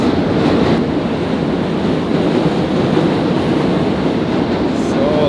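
A train passes nearby, a loud, continuous broadband roar with wind buffeting the microphone, steady from start to finish without easing off.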